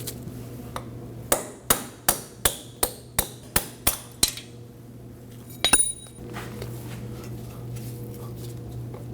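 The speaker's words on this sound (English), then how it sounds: "We need to punch this out. I'm going to use a punch and a hammer." About ten sharp metallic hammer blows on a punch driving out a roll pin on a 2003-2006 Subaru Baja CV axle, steady rhythm, close and loud, followed by a couple of lighter clinks, then quiet.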